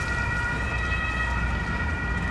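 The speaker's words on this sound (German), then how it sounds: "Rettungswagen Richtung Kadrinhospital." An ambulance siren on a German city street near a construction site in Stuttgart, wailing steadily and loudly over road rumble throughout, close by, with no voices.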